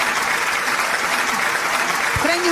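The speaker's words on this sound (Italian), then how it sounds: "Facciamo un forte applauso per" A live studio audience applauds to welcome a guest named Francesco onto a variety show, with dense, loud clapping sustained throughout and a brief voice near the end.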